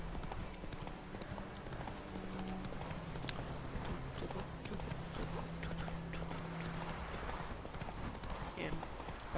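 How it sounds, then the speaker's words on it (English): Horse hooves clip-clop steadily in The Witcher 3: Wild Hunt, a continuous rhythmic clopping under game ambience and music, while a voice speaks over it. "Whoa there, Roach."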